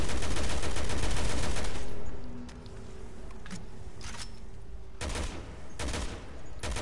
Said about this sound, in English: Some suppressive fire would be great.